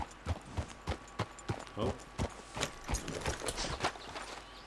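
Horse hooves clip-clop in a steady, close walking rhythm in Red Dead Redemption 2, roughly a dozen distinct strikes on firm ground, with a brief voice heard once.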